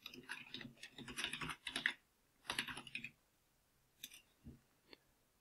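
Several short bursts of typing on a computer keyboard while entering a name into Revit classification fields, quiet and close, with rapid clustered keystrokes followed by a few isolated taps.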